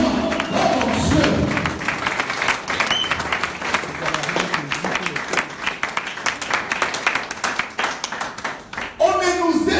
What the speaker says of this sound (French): Acclame un peu pour le roi de roi